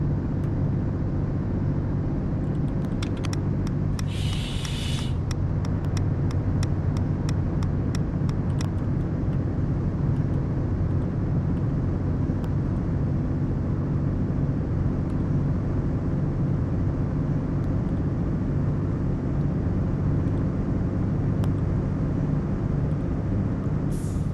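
A 2025 Mercedes-Benz Travego coach cruises along a three-lane highway in a driving simulator on a Balıkesir to İzmir run, its engine giving a steady, loud low drone throughout, with a brief hiss near the start.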